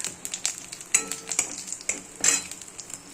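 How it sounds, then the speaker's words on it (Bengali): Cumin seeds, dry red chili and a bay leaf crackle in leftover fish-frying oil for a Bengali fish curry, with sharp spits and pops over a soft sizzle and a few utensil knocks, no voices. "মাছ ভাজার তেলে দিয়ে দেব জিরে ফোড়ন, সাদা জিরে ফোড়ন, শুকনো লঙ্কা, একটা তেজপাতা"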